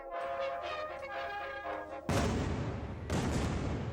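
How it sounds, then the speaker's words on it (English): Naval artillery bombardment by a British fleet striking a Sultan's palace: two heavy booming shell blasts about a second apart, each followed by rumbling decay, after a tonal droning passage. "the British fleet received its orders: immense bombardment"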